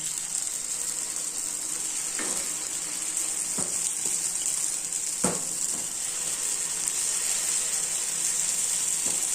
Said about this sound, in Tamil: இப்போ கல் சுற்றுச்சு இப்போ நம்ம பணியாரம் ஊற்றிக்கலாம்